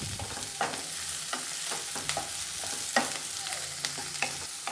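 Small chopped carrot pieces frying with onions in a pan, a continuous sizzle broken by several distinct spatula stirring scrapes and clacks spread across the clip, close and clear, with no talking.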